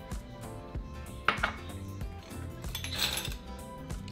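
A utensil clinks and scrapes against a large bowl while pancake mix and cinnamon are stirred together, with a few sharp taps amid soft rhythmic mixing, close and moderately quiet.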